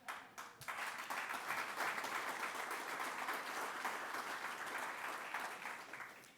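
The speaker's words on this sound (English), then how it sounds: "And leading the applause over there was Bobby Kumar" A crowd at a town inauguration ceremony applauding steadily, dense clapping that swells after a brief start and holds for several seconds before easing slightly.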